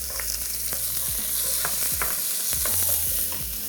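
Onion and garlic sauté in oil in a pan, a steady close sizzle broken by several irregular stirring scrapes and knocks, with no one talking.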